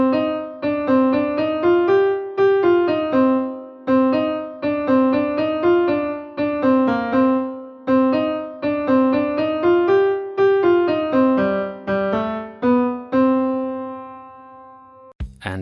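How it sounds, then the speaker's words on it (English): A simple 8-bar game-music melody plays alone as a clear stepping line of short, evenly paced tonal notes, ending on a longer held note. "So the melody I wrote today was a simple 8-bar melody and it sounds like this."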